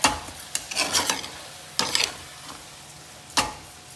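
A spoon stirs and mixes sweet rice in a pot, giving a few separate scraping, rustling strokes with quiet pauses between them, close by and fairly soft.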